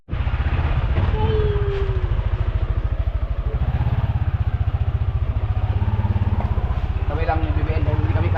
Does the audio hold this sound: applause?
no